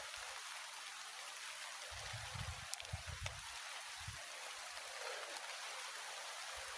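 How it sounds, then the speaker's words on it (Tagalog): Steady rain falls around a fishpond with banana plants close by, a soft continuous hiss throughout with a few louder low thuds and drips in the middle. "Ayan, umuulan."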